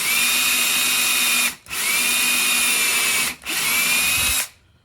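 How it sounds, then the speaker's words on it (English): A power drill bores into a walnut wood shotgun stock during a Yildiz shotgun recoil-reduction modification, giving three steady, close whining bursts separated by two short pauses before it stops. "while I drill the other one."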